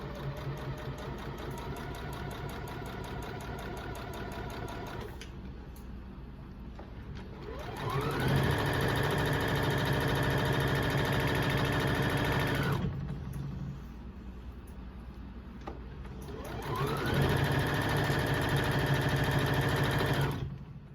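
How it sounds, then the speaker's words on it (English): A sewing machine stitches down the length of an apron strap in two long, steady runs of fast mechanical whirring, each starting up and stopping cleanly with quiet pauses between, heard close and alone. "I'm going to take it to the sewing machine. I'm going to sew all the way down it to close this strap up."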